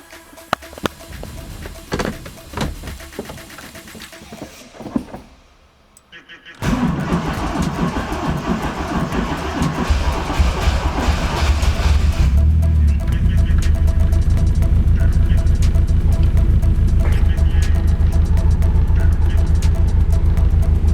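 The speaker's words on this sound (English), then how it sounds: "So now it's time to warm up the engine." A Toyota AE86 Trueno with a turbo engine cranks and fires after a brief pause, then settles into a loud, steady warm-up idle that grows fuller and persists close by, with some talking in the background.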